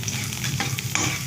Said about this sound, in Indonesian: kita aduk merata